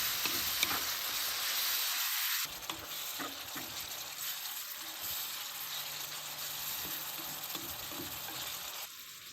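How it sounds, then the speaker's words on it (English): Ground beef browns in a pan with a steady, moderately loud sizzle and crackle, a few stirring knocks and scrapes breaking in, heard up close with no talk. "Just get the meat cooked first. Or at least browned anyway."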